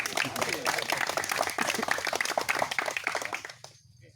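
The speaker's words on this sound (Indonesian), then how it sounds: "Tepuk tanganlah kau dulu" An audience at a village youth gathering breaks into dense, lively clapping that holds steady for several seconds before cutting off abruptly, leaving a brief quiet tail.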